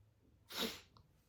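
A single sharp human sneeze bursts out in an otherwise quiet room during a tarot reading, loud and brief, followed by a faint breath afterward.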